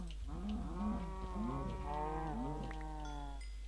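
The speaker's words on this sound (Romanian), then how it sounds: "Gata, mă duc să omor niște vaci." Cows moo in the Minecraft video game, several overlapping low drawn-out calls in quick succession, clear and fairly close with no talk over them.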